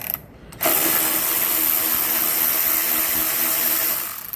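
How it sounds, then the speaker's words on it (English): Ratchet wrench clicking steadily on a Honda GCV small engine during fuel system work, a close, continuous rapid pawl chatter lasting several seconds after a brief quiet start. "Then I'm going to take this wrench, and you can take the regular wrench."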